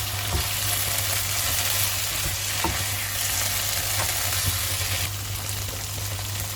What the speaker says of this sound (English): Now we will add in our cauliflower and potatoes.